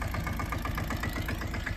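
A tractor engine idles on a farm in a steady, close, even rumble, with rapid rhythmic knocking pulses and no talk.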